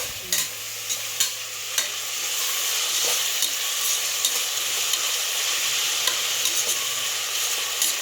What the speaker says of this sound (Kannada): ಎಣ್ಣೆನಲ್ಲಿ ಚೆನ್ನಾಗಿ ಫ್ರೈ ಆಗಲಿ ಅಲ್ಲ